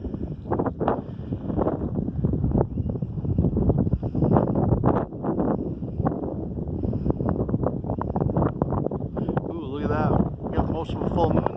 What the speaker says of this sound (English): the clouds rolled in, the wind's starting up